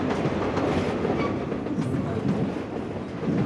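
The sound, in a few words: Trans-Siberian railway train running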